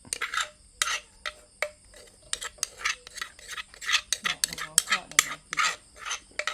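A utensil stirs a Lao-style mushroom chili dip (jaew) in a pot, making a string of sharp scraping clicks and clinks against the metal in an uneven rhythm, close and fairly quiet, with no talking.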